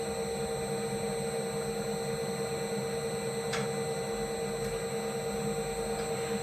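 Bridgeport milling machine head running steadily at 50 RPM in back gear, a constant mechanical hum with tonal whine and a couple of faint brief ticks, without talk.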